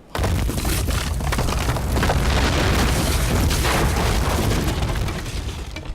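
A building collapsing in the strategy game Rome: Total War, heard as a loud, continuous rumbling roar of crashing debris lasting about five seconds before fading slightly at the end.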